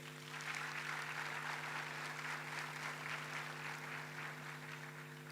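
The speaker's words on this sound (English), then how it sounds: "And I think we should give them a warm round of applause" A graduation ceremony audience gives warm applause to graduates, steady, even clapping heard at a distance and fairly faint, over a constant low hum.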